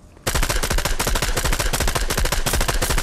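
Rapid automatic gunfire in the Fortnite video game erupts after a brief quiet moment, a loud, dense stream of shots hammering continuously for about three seconds with no talking.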